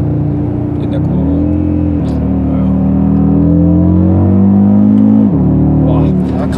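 A 2020 Audi RS Q3 Sportback with 400 hp accelerates through a corner, its engine droning loud and close from inside the cabin, rising in pitch, dipping as it shifts, then climbing again.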